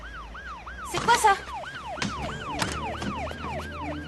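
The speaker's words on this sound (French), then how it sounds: "C'est une ambulance et elle vient ici." An ambulance siren wails in a steady, rapidly repeating rise-and-fall pattern, loud and close, while a person briefly speaks over it amid some nearby rustling.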